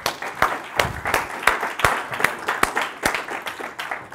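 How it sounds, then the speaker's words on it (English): An audience applauds as volunteers are called up onstage at a live seminar event, a sustained patter of many hands clapping with sharp individual claps popping out, steady and fairly close. "Everybody give him a round of applause."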